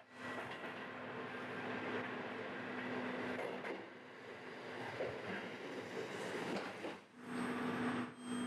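A local train bound for Kameyama pulls into Matsusaka Station platform one, a quiet, steady rumble with a faint sustained hum and brief swells of rolling noise.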